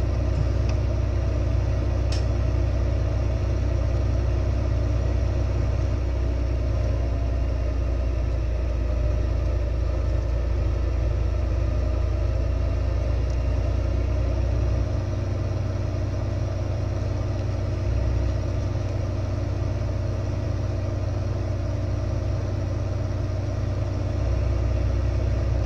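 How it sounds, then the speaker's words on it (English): A big tractor engine idles in Farming Simulator 2015, a loud, steady low rumble that drones on for the whole stretch with a slight deepening midway and no talking. "I love this tractor. So big and beefy."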